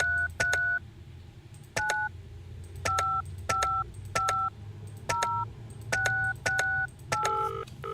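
A run of about a dozen DTMF dialing tones is keyed into a telephone in a mystery game, each short two-pitch beep repeating at a steady pace over a quiet low hum.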